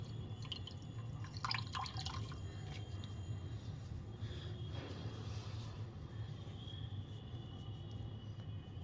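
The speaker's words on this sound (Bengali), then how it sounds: "আমি একটুটাকে জলে ভিজাচ্ছি।" Water dripping from a cloth being soaked for washing the face: faint, irregular drips and light splashes over a quiet low background hum.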